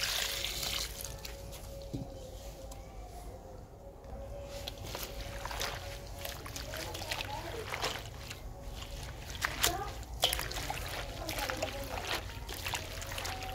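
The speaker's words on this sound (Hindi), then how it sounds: "और अब इसमें पानी शामिल करेंगे, इसको अच्छे से धोना है" Chopped mustard greens and spinach being washed in water for a Punjabi village-style saag, with continuous sloshing and trickling, occasional splashes, and a steady low background rumble throughout.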